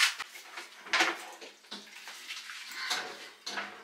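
Running water splashing as an item is rinsed and cleaned, irregular bursts of spray and gurgle with short pauses, fairly quiet and close.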